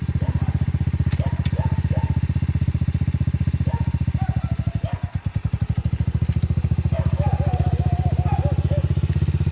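Motorcycle engine idling steadily and loud throughout, with a brief dip as it is put into gear; a few faint clunks sit over the running engine.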